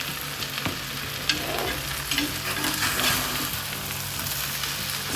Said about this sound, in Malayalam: സോഫ്റ്റായിട്ടൊന്ന് ഇളക്കി കൊടുക്കേ